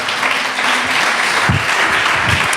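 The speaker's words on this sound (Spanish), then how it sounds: "Den un aplauso." A church congregation bursts into sustained applause, a dense steady wash of many hands clapping, close and loud for the whole stretch with a few low thumps near the end.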